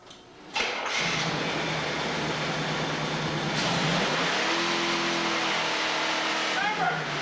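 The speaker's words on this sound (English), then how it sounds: "you want to start your car up and let it run at slow RPMs to get proper lubrication" A car engine starts up right after an oil change and settles into a steady low-RPM idle with a constant hum and a faint whine, while someone talks over it.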